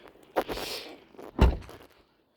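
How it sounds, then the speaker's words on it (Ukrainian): A 2022 Audi e-tron S door with soft-close pulls itself shut, heard as a brief rustle and light knock, then a solid muffled thunk as it latches, close and alone. "має дотяжки на всі двері"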